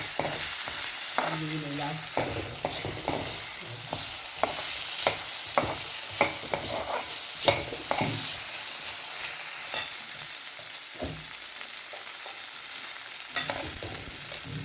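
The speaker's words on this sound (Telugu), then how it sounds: "ఆలు క్యారెట్ ఒకసారి వేసేసుకోండి. ఒక్క పిసరు పసుపు కూడా వేయాలి" Potato and carrot pieces fry in a pan with a pinch of turmeric, a steady close sizzle broken by repeated stirring scrapes and clanks of the spoon.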